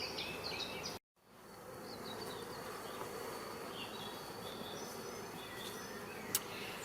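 Honeybees buzz at an apiary around a small swarm raised from the queen cells of hive number 10. The dense, steady hum is close and continuous, with a brief dropout near the start and faint bird calls above it.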